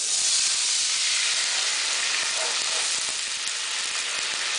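Apple cider hits a hot pan after chicken breast has been cooking, setting off a loud, steady broadband hiss and sizzle that holds throughout and eases slightly near the end.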